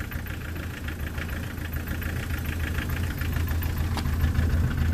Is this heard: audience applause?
no